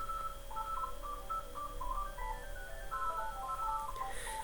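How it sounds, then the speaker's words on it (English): A telephone rings indoors during a crochet session, its tones sounding as a repeating pattern of short electronic beeps that continue steadily over a faint background hum. "Got a little pause a little bit because the phone is ringing"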